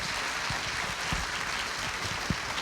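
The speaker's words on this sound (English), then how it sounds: "Can you all please join me in giving our panelists one last round of applause?" A crowd at a scholar night event gives a final round of applause for a panel, a steady, continuous wash of clapping with a few low thumps and no talk over it.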